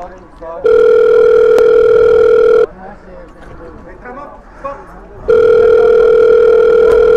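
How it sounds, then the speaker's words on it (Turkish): Telephone ringback tone heard while placing a call, two long steady loud tones separated by a pause with faint background voices and noise between them. "Hadi anne aç artık telefonu."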